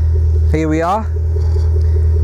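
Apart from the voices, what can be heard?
Range Rover Sport SVR quad exhaust engine revving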